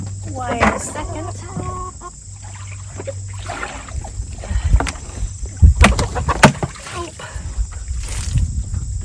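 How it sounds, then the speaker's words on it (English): A chicken on a homestead clucks several times in the opening seconds, fairly close, then gives way to rustling, footsteps and handling noises as someone moves around outdoors. "Let's see if I can catch this chicken."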